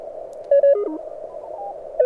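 Several radio signals drift by over steady band hiss while tuning the 40-meter band on an MTR3B radio, including a couple of brief, clear tones that break out above the noise.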